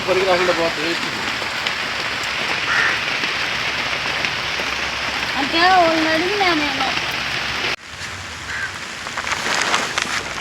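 Steady rain hisses loudly throughout, with voices talking over it partway through and a brief muffled drop in the sound near the end.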